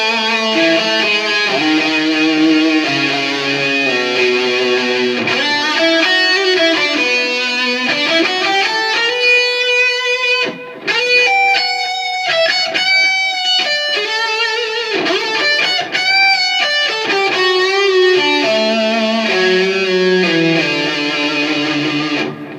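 A sustained electric guitar lead plays a gliding melody with long held notes, echoing repeats trailing behind each phrase, loud and unbroken.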